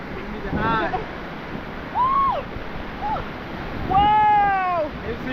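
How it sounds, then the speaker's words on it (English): River rapids below the Sipi waterfalls, where a river from Mount Elgon meets a cliff, roar in a constant broadband rush. Brief voiced calls and exclamations rise over it. "the river comes from Elgon and meets here a cliff, and it forms the water rapids"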